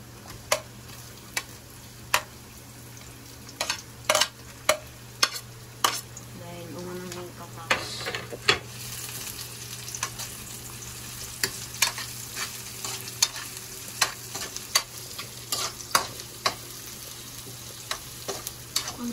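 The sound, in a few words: onion frying and being stirred in pan for corned beef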